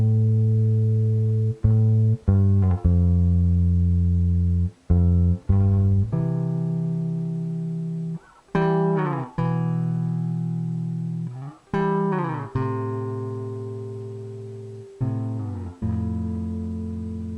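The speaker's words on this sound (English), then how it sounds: "I just love that sliding bass sort of thing." A bass plays a slow line of sustained notes, sliding between pitches, with brief gaps between phrases and no other instruments.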